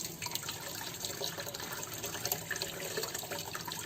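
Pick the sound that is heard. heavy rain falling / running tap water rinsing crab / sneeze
running tap water rinsing crab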